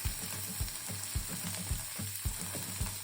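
Onions, tomatoes and spices for dal sauté in a pan, a soft steady sizzle with light rhythmic scraping or stirring knocks close by.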